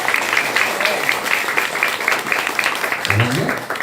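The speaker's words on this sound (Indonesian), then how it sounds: "Tepuk tangan untuk pagawean kolot baheula" Audience applause at a lively Sundanese-language comedic sermon, a dense, steady patter of clapping that continues throughout, with a brief voice rising near the end.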